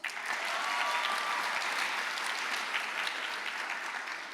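An audience at a high school honors convocation claps in steady, sustained applause that starts abruptly and stays even throughout, many hands blending into a dense patter filling the hall.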